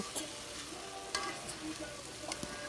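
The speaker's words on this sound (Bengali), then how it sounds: "মাছও এখন সুন্দর মতো কষিয়ে নেব" Fish sizzling as it is sautéed in a wok with spices, a steady fry with several sharp stirring scrapes at intervals, close and fairly quiet.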